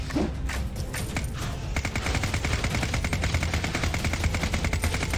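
An SMG firing continuously in the game Deadtime Defenders, a fast, steady stream of close, loud shots that kicks in after a brief quieter lead-in and keeps going without pause.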